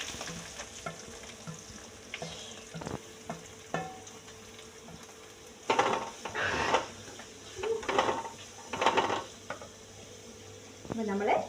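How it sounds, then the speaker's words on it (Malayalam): Onion, coconut and green chili sauté in oil over popped mustard seeds for a kozhukatta seasoning: a steady low sizzle runs throughout, broken by repeated louder scraping stirs of a spoon in the pan. "അതിലേക്ക് സവാള, തേങ്ങ, പച്ചമുളക് എല്ലാം ഇട്ട് ഇത് നല്ലോണം വഴറ്റിയെടുക്കണം"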